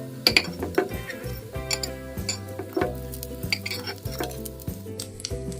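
Chana dal fritters fry in oil in a kadai with a soft sizzle, broken by repeated metallic clinks and scrapes of a utensil against the pan and a low mechanical hum beneath.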